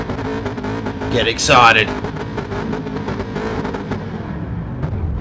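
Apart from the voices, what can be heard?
supercar engines on the starting grid, racing video game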